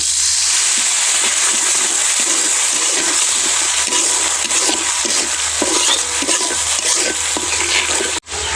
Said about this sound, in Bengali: এবার একটু পানি দিয়ে মশলাটা কষিয়ে নেব।